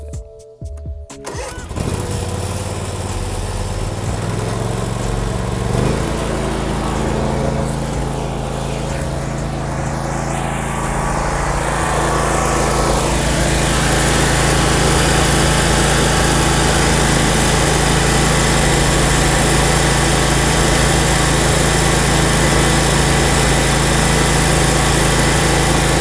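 A professional lawn mower with a leaking fuel pump cranks and starts, then its small engine settles into a loud, steady running drone that holds close and constant to the end.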